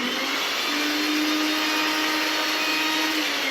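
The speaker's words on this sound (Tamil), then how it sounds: "இது சேர்த்துட்டு மிக்சியில் வந்து நம்ம அரைச்சிக்க போகிறோம்." A mixer grinder coarsely grinding coconut, jaggery and soaked poha, a steady loud whirring motor drone that runs continuously and alone, with a faint pitch rise partway through.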